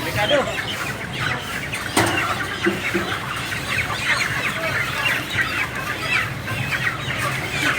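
Chickens at a poultry slaughtering site in Manila before dawn, a loud dense chorus of clucking and squawking from many birds close by, continuous throughout with some general background noise.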